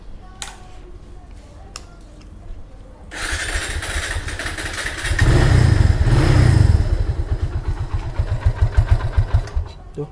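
A two-cylinder sport motorcycle with a stock exhaust starts up close by, settles into a burbling idle, revs in a loud swell, then drops back to a rhythmic idle pulse.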